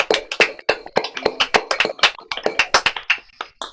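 Sparse applause for a singer-songwriter at a small virtual evening music gathering, with a handful of distinct, close hand claps coming in an uneven, scattered rhythm, loud and with no voices over them.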